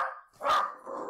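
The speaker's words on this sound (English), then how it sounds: "As my dog said" A dog barks twice, close and fairly loud, with a short gap between the two sharp barks and no talking.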